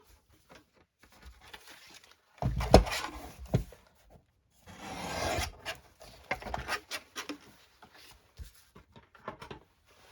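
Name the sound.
trimming paper for a Christmas journal pocket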